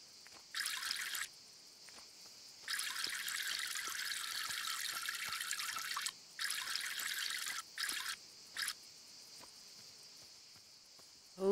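In EverDream Valley, a garden hose waters plants in a series of hissing bursts of varying length: one short, one long, then several quick ones. Soft insect chirps sound between the bursts.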